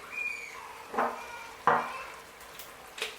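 Spoon stirring paprika and chili powder into coconut rice in a pot, a few distinct scraping swishes with light sizzling between them, close and moderately quiet.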